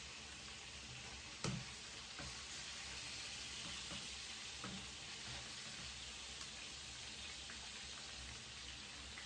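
Pork chops browning in a pan for a creamy coconut-milk sauce give a quiet, steady frying sizzle with light crackles, one sharper pop near the start and a brief clatter at the very end.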